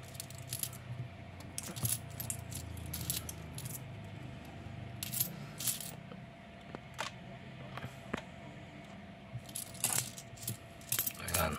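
Philippine peso coins, including a bimetallic 20-peso piece, are handled up close. Quiet, scattered metallic clinks and jingles come in short clusters over a soft background hum.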